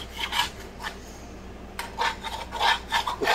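A utensil scrapes stuck browned fond off the bottom of a pan after frying Swedish meatballs for gravy, in repeated close rasping strokes with a brief pause midway.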